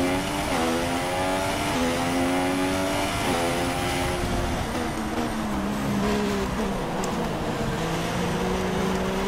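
A Formula 1 race car engine screams during a race at Bahrain in the F1 2016 video game, its loud continuous whine rising and falling in pitch through repeated gear shifts.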